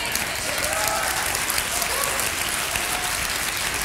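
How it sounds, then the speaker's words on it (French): An audience at a live Christian broadcast applauds loudly and steadily, with dense clapping that fills the room throughout and faint voices within it. "Ils n'applaudissent pas comme ça pour moi."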